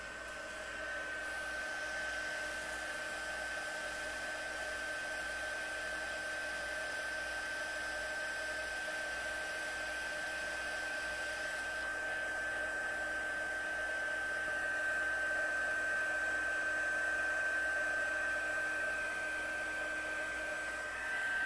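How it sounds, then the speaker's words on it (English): A heat tool melting embossing powder on a card blows in a steady, unbroken whoosh like a hair dryer, close and fairly loud, slightly swelling toward the end with no voices. "Heat tool. Let it heat up a bit and then go ahead and melt it."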